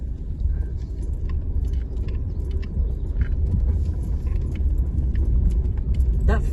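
A car rolls slowly over a rough yard surface, a steady close rumble of tyres and engine with faint crunching, while a person talks over it.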